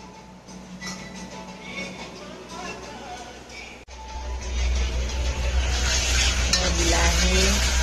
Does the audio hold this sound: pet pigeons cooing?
no